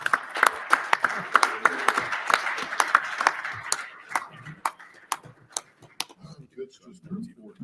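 Board meeting attendees clapping for a colleague's birthday, a cluster of sharp, close handclaps that thins to sparse individual claps, with people talking quietly at the end.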